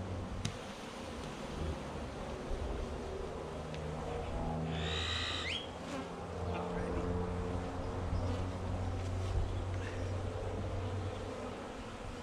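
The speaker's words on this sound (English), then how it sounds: "Okay, so there's all of those bees." A low, steady hum of buzzing honey bees persists faintly throughout, with a brief higher whine partway through, while a bee package is installed in a Layens horizontal hive.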